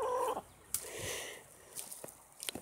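A chicken clucks and squawks in several short irregular bursts, close and fairly clear, with quiet gaps between calls.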